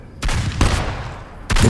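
Gunfire sound effect in a Hindi horror audio drama: three loud, sharp bursts of shots in quick succession, close and dominant with no voices over them.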